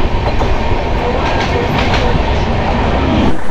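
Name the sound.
Kanchan Kanya Express LHB train running, heard from inside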